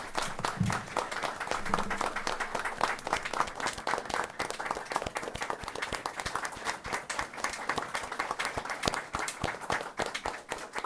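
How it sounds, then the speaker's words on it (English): A roomful of attendees at a school board of education meeting gives a sustained round of applause for an honoree, with steady, dense clapping lasting about eleven seconds without pause. "Let's give Ms. Hamby a round of applause"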